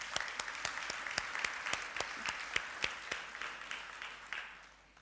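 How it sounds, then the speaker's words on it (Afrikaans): Church congregation applauding during a service, steady dense clapping with sharp individual claps standing out, holding level before fading away at the end. "ek dink ons moet vir julle hande klap gee, terwyl julle almal hier sit"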